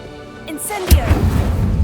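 A voice calls out a spell in Hogwarts Legacy, then the Incendio fire spell bursts with a sudden loud whooshing boom and a crackling rumble, close and forceful.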